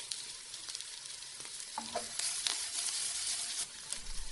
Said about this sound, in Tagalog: hahaluin natin para hindi masunog